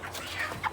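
Chickens on a Jamaican poultry farm give a short burst of clucking, with one sharper cluck near the end, all brief and close.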